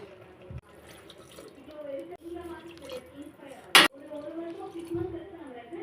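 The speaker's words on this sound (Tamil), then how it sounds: "இப்போ நம்ம தண்ணி ஊற்றிக்கலாம்." Water pours and splashes steadily into a cooker holding rice while someone talks over it, with a sharp clatter partway through.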